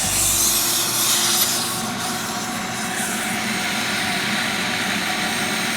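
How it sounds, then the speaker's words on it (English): A shop vac draws through an air conditioner drain line with a loud, steady, close whooshing roar of suction. It runs unbroken with only slight shifts in tone. "you'll be able to hear that the shop vac is pulling everything completely out through the drain line."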